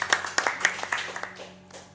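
A small crowd at a live speedrun marathon event gives a short burst of clapping, several sharp claps in a loose rhythm that thins out and fades within two seconds.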